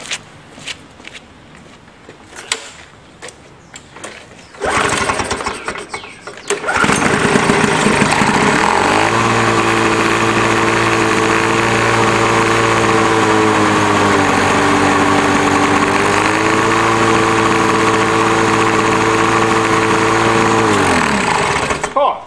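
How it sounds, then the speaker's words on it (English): A Lawn-Boy 4.5 hp lawn mower engine, long unused, is pull-started on choke: a couple of sharp cranking pulls and sputters, then it catches and settles into a loud, steady close-up drone that keeps running. "So I just have to reinstall the spark plug and see if she fires up."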